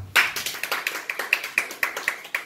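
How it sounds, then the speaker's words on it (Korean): A church audience clapping in a steady, even rhythm, about ten crisp claps in quick succession, close and clear with no talk over them. "박수 쳐드리겠습니다"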